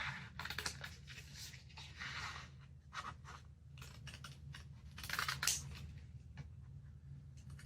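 Scissors snip steadily through a paper Christmas transfer, a run of close, crisp cuts with short pauses between them and nobody speaking.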